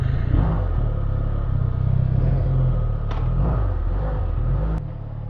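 A QJ Motor SRK 400 motorcycle engine rumbles steadily while riding, its low drone close and constant with slight shifts in revs and no talk.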